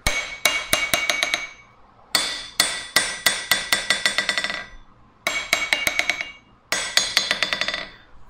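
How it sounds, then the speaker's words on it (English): A hammer strikes two steel anvils, a cheaper eBay anvil and a vintage Peter Wright, in four quick rhythmic runs of ringing blows, each strike bright and resonant with bouncing follow-up taps, close and loud with no talk. "So looking at these 2 anvils and actually hitting them with a hammer"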